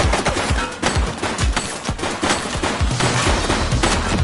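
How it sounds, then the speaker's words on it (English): Rapid bursts of gunfire rattle loudly and continuously during a police shootout in The Precinct video game, dense automatic shots with no pause. "Shots fired!"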